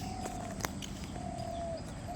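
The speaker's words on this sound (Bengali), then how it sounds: "দেখেন কতটি কবুতর রাস্তায় ঘুরতেছে, খাইতেছে" Pigeons roam and feed on a village road on a foggy morning, giving a few soft, distant coos and chirps over a low outdoor background hum, with a brief click partway through.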